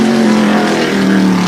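Loud, sustained engine roar of a wall stadium tour-type modified race car during a qualifying lap, blasting out of a turn at close range with a steady high drone.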